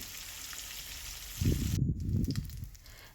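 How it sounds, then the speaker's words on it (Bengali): Pieces of rohu fish rubbed with salt and turmeric sizzle in hot oil, the frying bursting up loudly partway through and crackling steadily until the end. "মাছটাকে আমি লবণ হলুদ মাখিয়েছিলাম তো ভেজে নিচ্ছি মাছটা"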